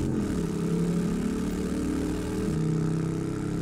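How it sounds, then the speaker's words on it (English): A motorcycle engine in the 7 Days to Die video game makes a sustained motor drone, and its pitch drops audibly partway through as it changes gears. It plays alone at steady loudness. "this motorcycle is so amazing. I love it. You can hear it changing gears and everything."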